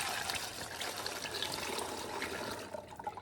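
Apricot brandy is ladled and poured into bottles, a close, soft liquid trickle and splash that runs steadily and then breaks into smaller dribbles near the end.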